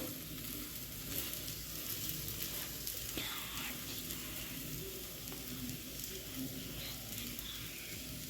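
Cucumber and fine semolina dosa cooking on a hot pan, a continuous even sizzle and crackle with a few faint scrapes, steady and close.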